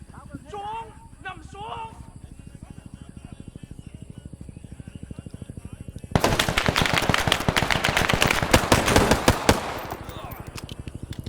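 Rapid bursts of M1 Garand rifle fire ring out in the Rising Storm 2: Vietnam video game, loud and close, with repeated sharp cracks over several seconds after a stretch of calmer game ambience, with voices talking.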